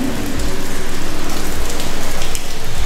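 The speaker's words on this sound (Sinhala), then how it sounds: "එළියට යන්න බෑ වහින හින්දා." Steady rain pours outside a house, a dense continuous patter of drops on surfaces that fills the scene, loud and close with no voices.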